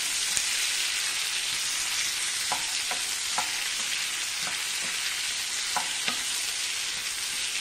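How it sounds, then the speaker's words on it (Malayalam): Raw mango pieces sauté in hot coconut oil with a soft, continuous sizzle. Faint clicks of stirring come through now and then, all fairly quiet and close, with no one talking. "വെളിച്ചെണ്ണയ്ക്കകത്തൊന്ന് കുറച്ചൊന്ന് നന്നായിട്ട് വഴറ്റിയെടുക്കാം നമുക്ക്."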